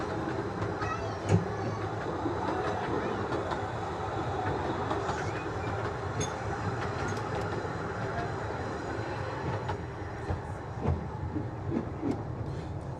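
A steam train on the Ravenglass and Eskdale Railway in the Lake District rumbles along steadily with a faint clickety-clack of wheels and occasional squeaks, while people talk quietly over the noise.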